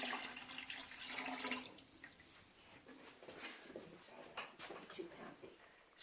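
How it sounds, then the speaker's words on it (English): Water pours steadily into a container loading a model K-truss bridge during a weight test, a continuous splashing trickle with faint dripping that eases partway through. "we're just going to be pouring more water."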